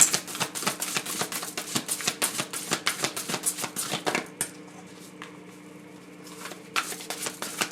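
Large tarot cards are shuffled in a rapid run of soft riffling flicks and slaps, followed by a quiet pause and a couple of light card-handling sounds as one is drawn.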